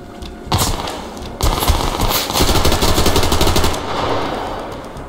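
Rapid automatic gunfire from the video game Survarium, loud bursts of repeated shots with brief pauses between volleys, no talking.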